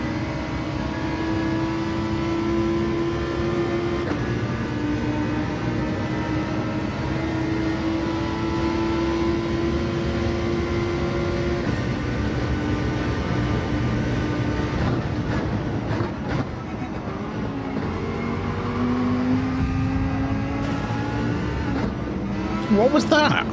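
Gr.3 race car engines, including a Ferrari, roar steadily in a Gran Turismo 7 race at Trial Mountain, a dense continuous drone with shifting pitch and brief gear-change breaks near the end, with talk over it.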